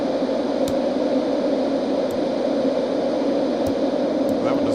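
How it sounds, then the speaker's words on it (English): A constant hiss of synthesized white noise holds steady throughout, broken by a few faint clicks. "So let's do one that's constant. Okay, so this is kind of a white noise."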